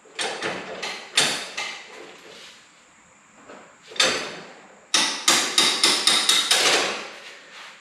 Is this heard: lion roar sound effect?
no